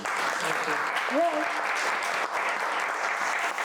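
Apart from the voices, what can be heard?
audience applause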